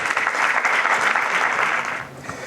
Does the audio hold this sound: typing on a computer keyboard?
no